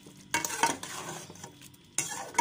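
Spices being stirred into beef in a pot on the stove for a Bengali-style kosha beef curry, heard as scraping spoon strokes and a soft sizzle in bursts, close and moderately loud with no talking.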